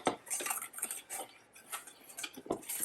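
Half a cup of cornstarch being stirred in a bowl, a quick series of light clinking taps and scrapes from a utensil against the dish, close and fairly quiet.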